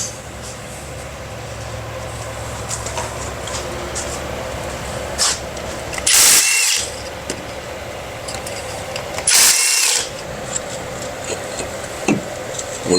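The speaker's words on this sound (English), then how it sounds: "So next we're going to undo the axle flanges." A power tool, likely an impact wrench, undoes the axle flange bolts on a 4WD heavy-duty Silverado pickup in a garage: two short, loud, harsh bursts several seconds apart, with quiet clinks and shop noise between.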